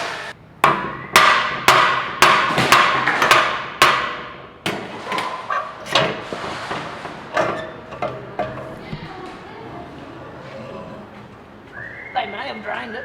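A copper hammer striking the axle of a 30-year-old Nissan GQ, a run of sharp ringing metallic blows in quick rhythm that slow and soften toward the end, loud and near.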